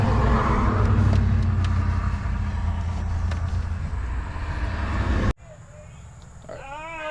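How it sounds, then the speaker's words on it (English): An old truck engine runs close by at a steady, rough low rumble for about five seconds, then cuts out abruptly, and a dog whines in the quiet afterwards. "Let's take the old truck on a cruise"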